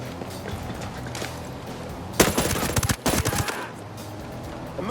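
A burst of rapid automatic gunfire rings out in the Ghost Recon Breakpoint shooter game, loud and dense for about a second, with a few more shots after a short gap and quieter game ambience around them.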